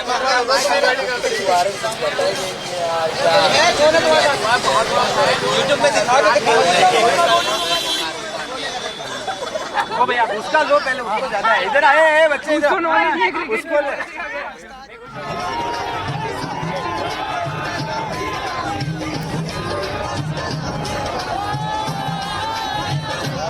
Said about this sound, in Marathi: आता भारतीय क्रिकेट चाहत्यांचा हा जल्लोष सुरू झालेला आहे